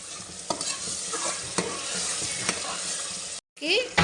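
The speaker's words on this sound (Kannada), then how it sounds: "ನಾವು ರುಬ್ಬಿಟ್ಕೊಂಡಿರೋ ಪೇಸ್ಟನ್ನ ಅದಕ್ಕೆ ಆ್ಯಡ್ ಮಾಡಿ ಇದನ್ನು ಒಂದು 5 ಮಿನಿಟ್ಸ್ ಚೆನ್ನಾಗಿ ಫ್ರೈ ಮಾಡಬೇಕು" A freshly ground masala paste fried in a pan, a continuous close sizzle broken by regular spoon scrapes about once a second, with a brief cut to silence near the end.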